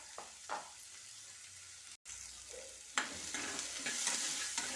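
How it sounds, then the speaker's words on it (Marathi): Onion being stirred in a hot pan on a gas stove, a soft scraping stir over a steady frying sizzle that grows louder and fuller toward the end, with no talking. "कांदा टाकला आहे, फिरवून घेते."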